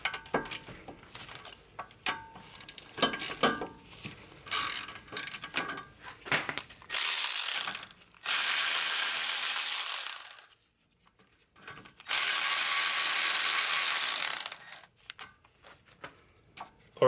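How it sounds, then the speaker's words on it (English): A ratchet clicks steadily in bursts while 14mm brake caliper bolts are undone on a Subaru Forester's front brakes, with close, crisp pawl ticking and a few louder bursts separated by near silence. "So now we're gonna undo these two caliper bolts, and these caliper bolts are"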